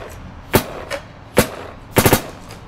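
A Virtue Ace Luxe X paintball marker with a Spire IV hopper firing outdoors in burst mode: sharp, close pops, first two single shots, then a quick triple burst, with short pauses between.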